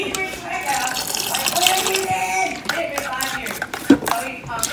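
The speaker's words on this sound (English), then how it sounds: "I'm going to add a little bit more. A little bit of water." Water is poured into a loose cooking mixture in a home kitchen, a soft, steady trickle and splash with light handling noises.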